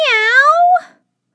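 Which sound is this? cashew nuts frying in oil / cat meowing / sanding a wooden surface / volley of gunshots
cat meowing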